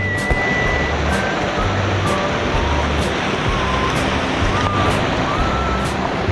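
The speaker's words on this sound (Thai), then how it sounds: "น้ำป่ามานี่เก็บเต็นท์ไม่ทันเลยนะครับ น้ำแรงมาก" Rushing flash-flood water in a forest stream at Khao Yai National Park roars as a loud, continuous broadband wash with no letup, and faint tonal sounds sit above it.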